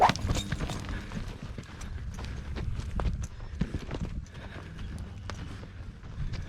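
Hooves of a horse herding cattle thud in an uneven, steady rhythm close by, with scattered knocks and rustle around them.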